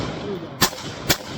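Two sharp, loud AR-15 rifle shots ring out about half a second apart during a muddy torture test of a Strike Industries Mag 32+ magazine, each crack close and abrupt over a steady outdoor background.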